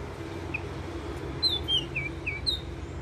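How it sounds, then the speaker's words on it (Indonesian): A played recording of an oriental magpie-robin song, a short series of bright chirps and rising whistles at moderate volume, sounds outdoors over a low steady background hum. "Coba aku puterin suara burung."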